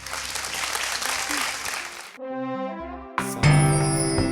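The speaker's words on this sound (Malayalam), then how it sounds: "നമുക്ക് നമ്മുടെ ജഡ്ജസിന് ഒരു വലിയ ക്ലാപ്പ് കൊടുക്കാം" Studio audience applause for judges on a television quiz show, a dense loud patter for about two seconds before musical stings and tones take over.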